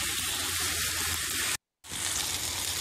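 Chicken sizzling with softened onions in a pan for an Indian chicken curry, a loud steady hiss of frying broken by a brief silent gap, with no voices.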